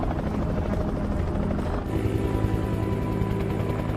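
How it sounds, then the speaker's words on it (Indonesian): A helicopter's rotor thumps loudly and steadily nearby as it sweeps over a desert military area, with a dense chopping pulse over a deep engine drone that intensifies midway. "Sementara helikopter menyisir seluruh area militer itu."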